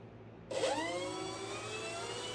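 The electric motors of an E-flite Twin Timber RC plane switch on after a short quiet start, spinning up with a rising whine and settling into a steady, close, high-pitched whir.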